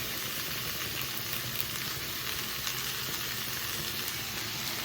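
Chopped onion and curry leaves fry in hot oil in a pan with a bright, steady hiss and crackle that stays even throughout, with no voices.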